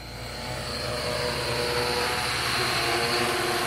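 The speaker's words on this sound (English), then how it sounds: "We got a beautiful drone in action here." A Holybro X650 custom drone carrying a small GoPro payload in flight, its propellers giving a steady, loud, continuous buzzing whir that holds throughout without pause or talk.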